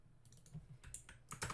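Quiet keystrokes on a computer keyboard come in a short irregular burst of several clicks, close and faint, with no voices.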